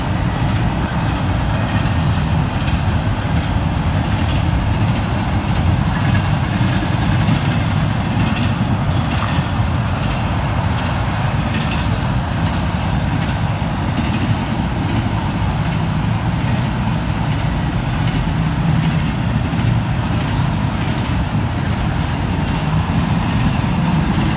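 A CN northbound intermodal freight train led by three locomotives rolls past, its loud, steady rumble and wheel clatter continuous and close throughout, with no voices.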